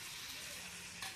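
Curry leaves fry in hot oil in a pan, giving a brief, steady, hissing sizzle that stays close and even throughout.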